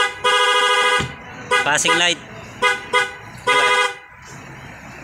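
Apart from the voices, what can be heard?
Honda CBR motorcycle stock horn and loud dual contact horn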